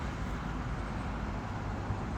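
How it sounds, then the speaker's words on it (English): Steady low rumble of a moving bus heard from inside, a continuous broadband drone of engine and road noise with no talking. "Riding a bus."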